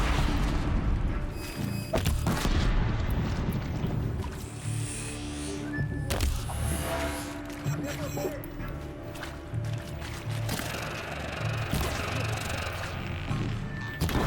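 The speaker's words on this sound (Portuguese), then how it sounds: "Uma bombinha ali vai dar bomba." Booming bomb explosions and heavy thuds in Horizon Zero Dawn rumble under a constant wash of game noise, with a voice speaking over parts of it.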